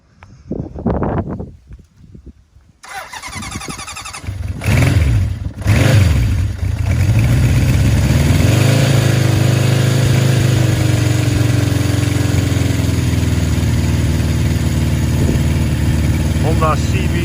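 A 1971 Honda CB750 K1, fully restored with its original exhaust, coughs and sputters through a cold start, catches after a few seconds with brief revs, then settles into a loud, steady idle.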